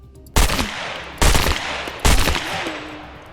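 MP5 firing at a zombie in the SCUM video game: three separate sharp, loud bursts of gunfire, evenly spaced about a second apart, each trailing into a short decay.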